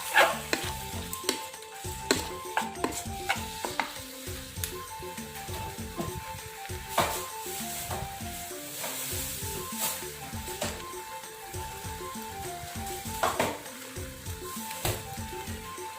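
Shallots frying in a pan crackle and sizzle up close, with sharp pops and scraping stirs at irregular intervals over a soft steady hiss, and no voices.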